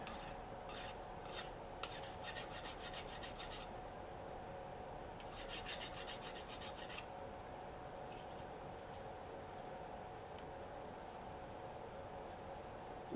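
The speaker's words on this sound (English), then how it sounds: "let's just sharpen this up a little bit just to make sure we've got" A metal file rasping to sharpen part of a Harbor Freight metal tubing roller: several quick bursts of back-and-forth filing strokes near the start, then quieter faint scraping over a low workshop hum, with no talking.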